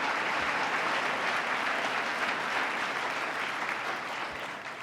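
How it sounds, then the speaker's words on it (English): Steady, dense applause from a large audience at the 2018 New York State of the State address, sustained at an even level for several seconds before tapering slightly at the end. "Let's give them another round of applause for not applauding for anything"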